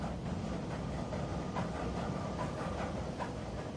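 The Union Limited steam train crosses the Cayman's River Bridge, heard as a faint, steady rolling rumble and hiss with soft rhythmic clicks, somewhat distant and without voices.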